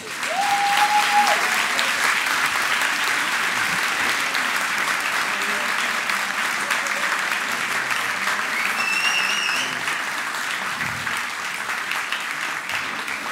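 An audience at an award ceremony applauds in a dense, sustained wave of clapping that holds steady for many seconds and eases only slightly near the end.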